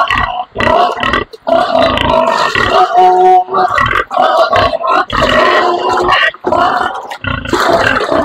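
Eight-day-old piglets from a first-parity red sow, some of them sick with scours, grunting and squealing loudly and almost without a break, close by and overlapping one another.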